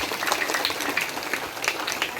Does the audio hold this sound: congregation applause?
yes